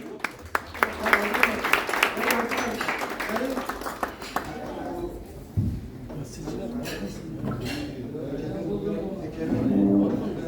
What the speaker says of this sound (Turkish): Evet, güçlü bir alkış alalım.